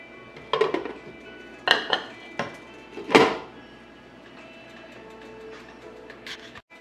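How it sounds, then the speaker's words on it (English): Pot of garlic chicken macaroni soup being covered with a lid, a series of sharp metallic clanks and clinks of lid on pot, several close knocks, then a quieter low hum. "let's cover this up and we'll wait until the macaroni is cooked."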